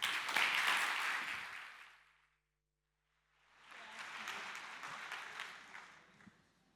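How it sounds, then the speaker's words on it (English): Audience applause at a conference session on lived-experience research: a burst of clapping that fades out, a moment of near silence, then a second round of moderate clapping from the hall. "Give her a warm applause."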